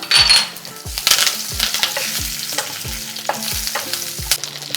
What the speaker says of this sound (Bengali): ঠিক সেই সময় দিয়ে দিচ্ছি কারি পাতা